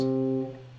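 One plucked guitar note, C, rings out and slowly fades, short and moderately quiet, with no voices.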